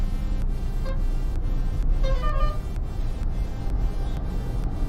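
A 2024 Maruti Suzuki Swift with an AGS automated gearbox cruises in fifth gear, giving a steady, even cabin drone of engine and road noise with a couple of faint tonal chirps.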